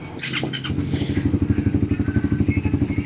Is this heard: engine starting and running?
yes